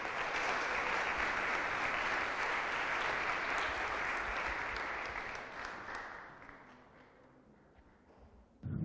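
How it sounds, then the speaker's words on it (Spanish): A church congregation applauds together during a live worship service, the dense clapping holding steady and loud for several seconds before thinning and fading toward the end. "Aplaudamos al Señor por la vida del pastor"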